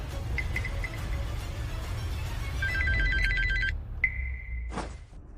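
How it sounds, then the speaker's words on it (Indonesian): A telephone rings several times indoors, its electronic tones repeating in short bursts before a longer ring is cut off by a click, heard clearly over a low background hum. "Pak Arif, telepon"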